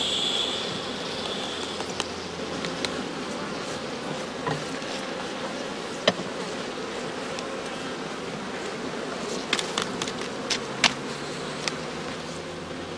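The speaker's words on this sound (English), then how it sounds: "by tapping lightly, the beekeeper makes the bees detach themselves from the combs" Honey bees swarm around a straw skep hive as a beekeeper taps it gently, a steady close hum with scattered sharp clicks and knocks over the buzzing.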